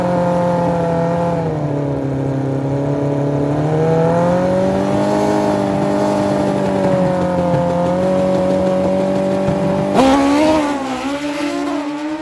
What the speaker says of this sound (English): Here comes Spencer Claycomb, near lane, Suzuki Hayabusa. He will oppose Marcus Hilton, also on a Hayabusa